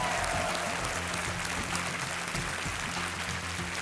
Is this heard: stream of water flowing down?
no